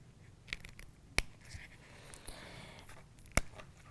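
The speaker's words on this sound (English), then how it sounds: "So I'm going to have to cut around the L." Scissors snipping through chipboard while cutting around a letter L for a papercraft project, a few sharp, separate snips spread over quiet handling noise.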